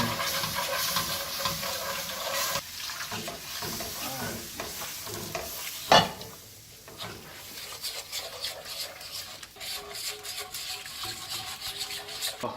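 Milk being gradually stirred into country gravy in a pan on the stove, a steady scraping stir over soft sizzling that runs throughout, close and moderately loud, with one brief sharp clatter partway through.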